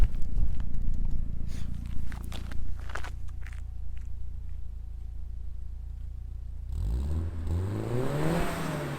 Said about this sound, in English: But I'll give it a bit of a rev.